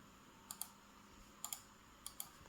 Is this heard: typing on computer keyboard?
yes